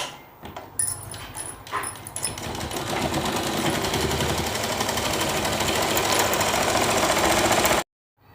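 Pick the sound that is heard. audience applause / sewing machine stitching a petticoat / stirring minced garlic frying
sewing machine stitching a petticoat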